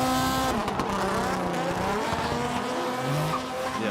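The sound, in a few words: drift car engine and tire squeal at Ebisu Circuit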